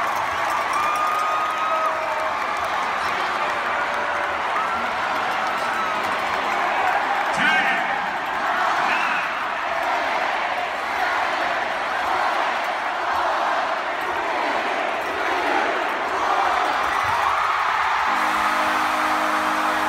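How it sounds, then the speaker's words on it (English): Pittsburgh Penguins hockey fans cheering, a dense continuous roar of crowd noise held at an even level throughout, with no clear peaks. "those were our Pittsburgh Penguins fans cheering on a waterfall"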